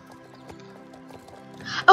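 Horse hooves clip-clop with a brief whinny in the Star Stable video game, fairly soft over steady game music before a louder burst at the very end.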